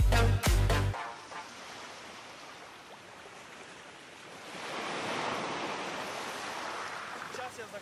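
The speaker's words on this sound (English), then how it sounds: "Simulation of wave tides created by customized high-tech wave generator, so the swimming pool literally transports you to the ocean" Artificial waves from a custom high-tech wave generator surge through an indoor swimming pool, a steady rushing wash that swells louder midway, following a brief burst of voice at the start.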